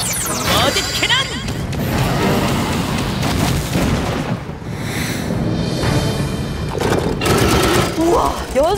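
Repeated booming blasts and crashing impacts from a cartoon mud cannon in the Dino Mecard animated series fire in quick succession, loud and close, with excited voices talking over the barrage.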